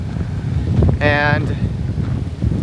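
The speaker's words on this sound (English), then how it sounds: "It's really windy out here." Steady wind buffets the microphone with a low, rumbling roar throughout, and a voice briefly speaks partway through.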